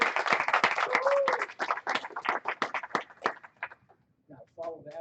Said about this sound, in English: Let's give him 2 rounds of applause